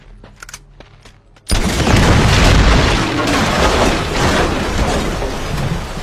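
A gate blown apart by a huge explosion in the video game Uncharted, a sudden loud boom after a quiet moment, followed by a sustained roaring rumble of debris and fire lasting several seconds.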